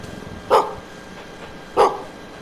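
Two sharp, loud dog barks spaced about a second apart ring out in the horror game Maid of Sker, standing alone over a faint ambient background.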